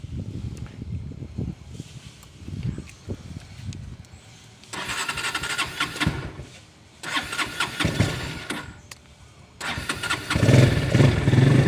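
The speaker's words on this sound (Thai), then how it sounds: "ลองฟังเสียงเครื่องดูนะครับ" A Honda Phantom 200 motorcycle, left parked a long time with a leaking, flooded fuel system, repeatedly cranked to start: rough mechanical sputters alternate with loud bursts of engine noise, close by and without talk.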